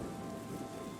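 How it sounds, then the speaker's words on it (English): Steady rain falls in the video game Terra Nil, a dense, even hiss of drops with a low rumbling undertone, continuous and close throughout the short stretch. "Look, it's raining."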